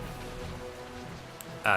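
Steady in-game rain from Final Fantasy XII, a soft continuous hiss at even loudness throughout, with a brief tonal blip near the end just before a louder voice cuts in.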